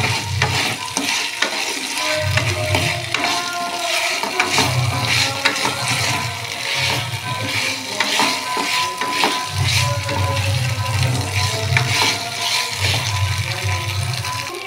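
Parboiled potatoes frying in a pan, loud sizzling hiss broken by repeated scraping stirs and bursts of spluttering oil, close and continuous with no talking.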